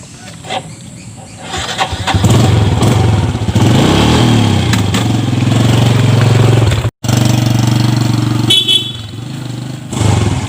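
A motorcycle engine roars close by, a loud steady rumble that starts up and runs continuously, cutting out for an instant before resuming.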